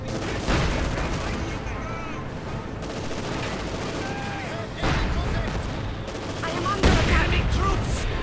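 A 1v1 Company of Heroes 2 match with half-tracks, snipers and mines, where dense game gunfire rattles and mortar booms thump throughout, a continuous busy battle mix with a few louder blasts.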